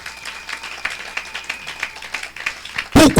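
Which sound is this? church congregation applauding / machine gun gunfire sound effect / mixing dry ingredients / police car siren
church congregation applauding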